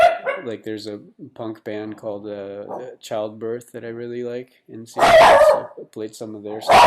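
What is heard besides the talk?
dog barking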